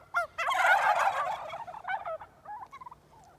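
Mammoth bronze turkeys gobble loudly and close in a dense burst, followed by scattered quieter gobbles and clucks trailing off.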